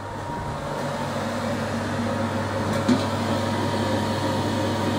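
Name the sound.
homebrew kettle running at full power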